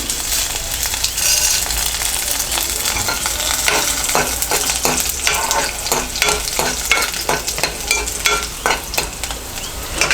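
Chana dal going into hot oil with garlic for a banana tomato curry, giving a steady loud sizzle and crackle with stirring scrapes throughout and no voices.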